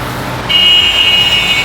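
Road traffic roars steadily on the Lahore ring road, a loud, continuous wash of passing vehicles with a thin high whine running through the latter part.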